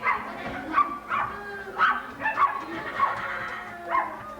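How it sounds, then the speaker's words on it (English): Dogs bark in a youth theatre stage production of Animal Farm: about seven short, sharp barks and yips at irregular intervals, moderately loud, with no talking. "did those dogs come from?"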